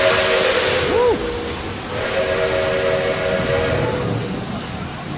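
Train on railway tracks with a short two-tone steam-style whistle early on, then sustained tonal hiss and rumble of rolling stock, fairly loud and steady without talk.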